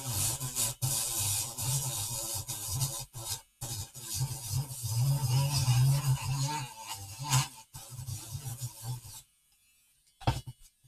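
A DSPIAE mini drill sands with grit pads, giving a steady close rasping whir in bursts with short pauses, dropping out near the end before a brief final touch.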